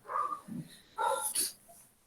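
Several dogs bark nearby in a residential building, a few sharp barks and yips in quick succession, fairly close and clear with no talking.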